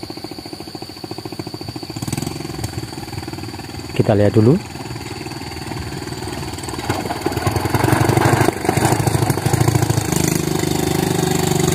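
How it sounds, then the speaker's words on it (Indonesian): A motorcycle engine runs steadily in the rural Gunung Sewu hills of Banjarnegara, Indonesia, a rough mid-level drone that grows louder near the end while someone talks over it. "Dan kita lihat ada orang naik motor."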